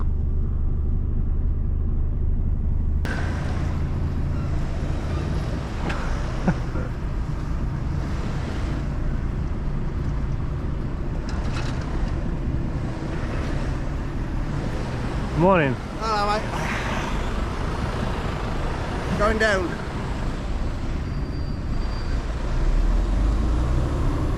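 A car boards a ferry on a trip leaving Italy, with low engine rumble, wind buffeting and clanks and thumps over the ramp, while people talk and shout faintly nearby.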